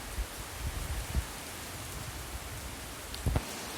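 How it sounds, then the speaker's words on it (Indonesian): Rain falling outdoors near a chicken coop, a soft continuous hiss of drops with a few low thumps, fairly faint and steady. "masih hujan ya teman-teman."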